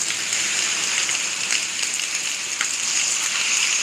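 Steady rain pours down in a rainstorm, a dense, even hiss of drops striking surfaces close by, constant and unbroken throughout with no voices.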